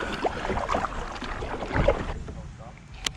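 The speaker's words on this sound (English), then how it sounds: "we're gonna paddle into the wind here and let the wind blow us over that spot again" A fishing kayak is paddled into the wind on a lake, with soft paddle strokes and water sloshing amid wind rumble, then fading quieter toward the end with a small click.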